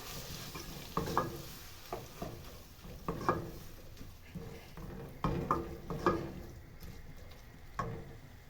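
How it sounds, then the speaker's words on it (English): Stirring tomato paste into a minced beef and tomato sauce for spaghetti Bolognese produces wet, rhythmic scraping and squelching strokes over a soft sizzle from the pan. The sound is close, and no voices are heard. "tomato paste, give it a stir"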